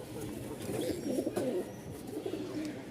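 Rajshahi Giribaj pigeons, a flying breed, cooing steadily and close by, soft rolling coos overlapping one another over a faint background murmur.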